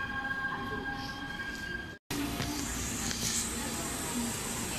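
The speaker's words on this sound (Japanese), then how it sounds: "南小谷行きのですね列車が来ました。" A Japanese Oito Line train bound for Minami-Otari rumbles into the station with a steady hum and hiss, cut by a brief gap, then faint squealing wheels as it draws near.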